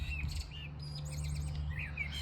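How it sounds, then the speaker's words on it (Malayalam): Several small birds chirp outdoors in the UK, giving thin, high twitters and short calls at a moderate distance, scattered over a steady low rumble of wind or traffic. "കുറേ കിളികൾ കീ പറയുന്നുണ്ട് കേട്ടാ."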